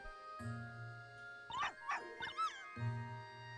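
A small cartoon puppy in the Professor Layton vs Phoenix Wright video game gives a few short yips and whimpers between musical chimes, against a low sustained game tone.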